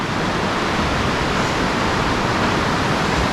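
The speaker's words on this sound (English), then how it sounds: "river, which is absolutely raging. After all the rain we've had" A raging river swollen after heavy rain rushes past a riverside path near a Pyrenean village, a loud, continuous broadband roar of churning water with no breaks, close at hand.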